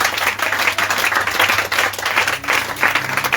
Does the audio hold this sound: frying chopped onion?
no